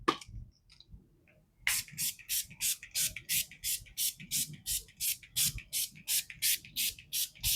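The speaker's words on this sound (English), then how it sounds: "I'm going to go in with a little more setting spray." Rapid series of short, hissing spray bursts in a steady rhythm, close and crisp, following a quiet pause with faint handling noises.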